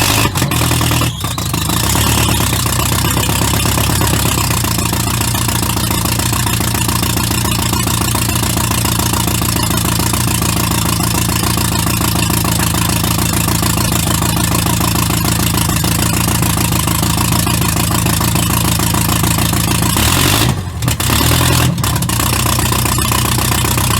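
A 37-year-old 1983 Nissan 720 pickup engine idles steadily and loudly at close range, a continuous even rumble with two brief dips along the way.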